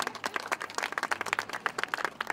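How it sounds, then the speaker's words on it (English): Applause from the audience at a park field dedication, a light scattering of claps from a small crowd, fairly distant and uneven, continuing for a couple of seconds. "Give them a round of applause, please."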